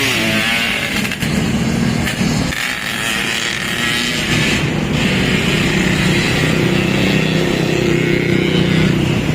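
Busy street in Indonesia, with motorcycles and cars passing in a continuous loud roar of engines and revving, traffic noise filling the whole stretch without pause.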